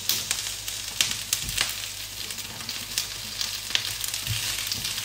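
Red bell pepper sizzles in a frying pan for ratatouille, a dense steady hiss close by with occasional crackles and a few light stirring knocks.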